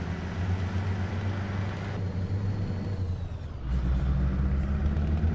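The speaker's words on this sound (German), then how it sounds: "Einfach mal mit einem Euro-Truck-Simulator durch die Wüste fahren." A heavy truck in Euro Truck Simulator rolls steadily through a Middle East desert, its engine rumbling low and continuous, briefly dipping around midway before returning louder and close, with no talking.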